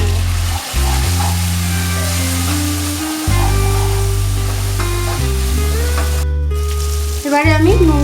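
Fried vegetables with turmeric and Kashmiri chili for a navaratna curry sizzle and crackle in a frying pan as they are stirred, the hiss partly buried under loud, steady background music.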